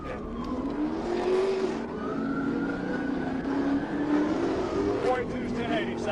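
A black Chrysler 300 accelerates hard away during a police pursuit, a sustained engine roar with rising and falling pitch and some tire noise, steady and fairly loud throughout.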